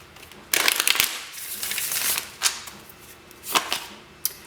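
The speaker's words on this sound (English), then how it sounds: "One more shuffle." Tarot cards being shuffled by hand: a run of soft, papery riffling bursts, close and fairly loud, repeating in uneven bursts with brief pauses between them.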